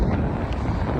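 Strong wind buffets the microphone with a loud, steady low roar and rumble.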